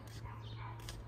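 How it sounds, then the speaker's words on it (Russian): Somewhere else in a house, a dog gives two short, faint barks, one near the start and one near the end, over a quiet background hum. "О, Бонька там гавкает"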